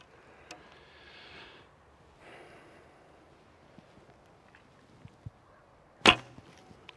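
An arrow is loosed from a 50 lb Alibow Kheshig bow, giving one loud, sharp snap of the string and impact amid faint outdoor wind, with a few soft clicks and rustles around it.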